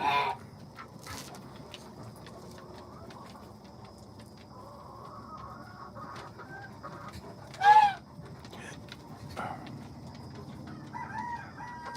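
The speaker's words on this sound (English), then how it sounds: "Chicken, chicken, chicken." Backyard chickens, hens and a rooster, cluck and call at feeding time, with one loud nearby crow rising above steady low clucking and other farmyard fowl murmuring throughout.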